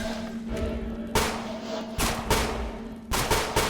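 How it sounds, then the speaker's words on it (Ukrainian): Repeated bursts of gunfire in a Roblox game, several sharp volleys over a steady low hum, fairly loud and close. "я просто стріляю по своїй же підвозі"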